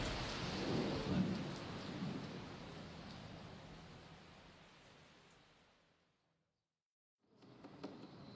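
Heavy rain with thunder in the desert, pouring hard enough to cancel a bicycle race: a dense hiss of rainfall with deep rumbling early on, fading to near silence around six seconds before the downpour resumes.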